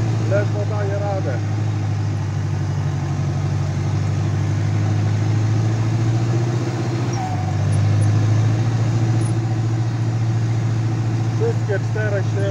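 A steady, close, heavy drone comes from an Ursus C385 turbo tractor engine straining in clay field work, with a brief dip and recovery in the middle as the load shifts, and faint voices now and then.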